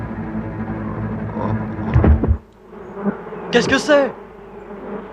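Wasps buzz from a nest in a few short, rising bursts of insect drone, close and fairly loud, while a voice speaks briefly over them.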